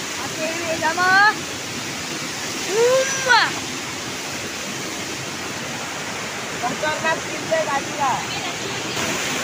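A steady waterfall roar fills the whole stretch near a spot where crabs are being caught, a constant rush of falling water with people talking over it at intervals.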